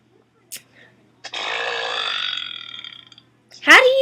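A long, loud, gravelly burp from a kid stretches for nearly two seconds, preceded by short clicks and followed by a brief high voice exclaiming.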